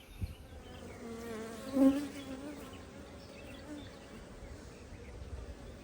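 Honey bees buzz around nucleus hives during queen release, a soft continuous hum with one bee droning briefly close by before fading back into the quiet swarm.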